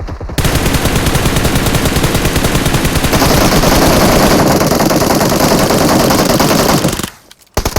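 Sustained automatic gunfire in PUBG Mobile: a rapid, loud, unbroken stream of shots lasting about seven seconds before cutting off abruptly.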